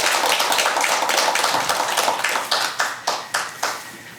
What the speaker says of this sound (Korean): 우리 어제 발표자분들께 우리 힘찬 격려 박수 부탁드리겠습니다